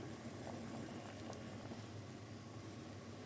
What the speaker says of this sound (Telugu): చూడండి ఈ విధంగా మరుగుతుంది